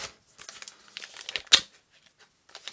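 A trading card pack wrapper for Twilight of the Republic is crinkled and torn open up close, with bursts of foil rustling and one sharp rip partway through.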